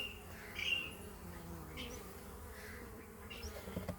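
Steady insect buzzing from many bees around a hive fills the air, a dense droning hum with individual bees flying close past now and then.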